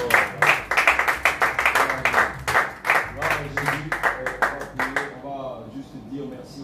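A church congregation applauds in quick, steady rhythmic claps for about five seconds under loud voices, and then the clapping stops and only the voices carry on.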